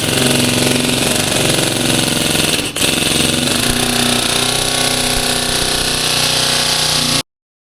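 Steady, loud power-sanding drone on a car body being prepped for primer, a continuous buzzing whine with a brief dip partway through, then it cuts off abruptly near the end.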